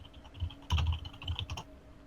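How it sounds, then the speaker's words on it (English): Bursts of clicky keystrokes on a mechanical keyboard come close and fairly loud, in quick uneven clusters separated by short pauses, with no talking. "You hear my typewriter? That's right. I love those, oh wow, mechanical keyboards."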